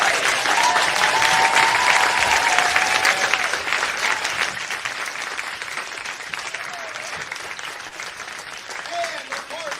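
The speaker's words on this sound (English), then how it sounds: "round of applause for all of our students" Audience applause for taiko drumming students at a fall recital and anniversary celebration, loud sustained clapping that gradually thins and softens over about ten seconds, with faint scattered cheers.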